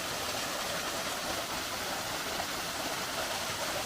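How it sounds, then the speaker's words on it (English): A waterfall on the Rhododendron Trail in Mount Airy, Georgia, pours into a pool below, making a steady, even broadband rush of falling water. No one speaks over it. "But it's another beautiful waterfall here along this trail."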